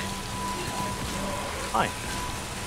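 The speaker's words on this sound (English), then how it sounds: "Not in the rain." Steady rain hisses across the whole clip in the Mass Effect 3 multiplayer game, with a brief sharp tone near the end and a short spoken greeting over it.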